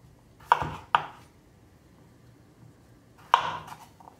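Small potatoes chopped into bite-sized pieces on a board, three crisp knife chops, two in quick succession and one after a pause, close and clear in a quiet room.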